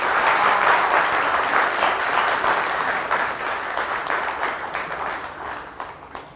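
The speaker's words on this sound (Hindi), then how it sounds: "और एक दफ़ा फिर तालियां होनी चाहिए नादिर चाचा के लिए" An audience at a silver jubilee award show in Chitral applauds Nadir Chacha, a loud, dense burst of clapping from many hands that gradually fades out.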